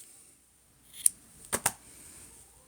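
Scissors snip through crochet yarn on a temperature blanket, one sharp close cut followed by two quick snips in a quiet room.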